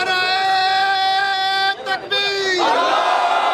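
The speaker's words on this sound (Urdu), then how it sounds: "اس موقع پر تاجروں نے ہندوستان کے خلاف زبردست نعرے بازی کی۔" Crowd of traders chanting slogans in unison at a street protest against India on Mall Road, Lahore, loud sustained voices with a brief break before the chant resumes.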